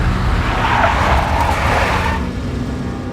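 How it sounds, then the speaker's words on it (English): A big black Mercedes skids in the Max Payne video game, giving a loud, sustained tire screech over engine roar that swells and then fades away over about three seconds. "A big black Mercedes."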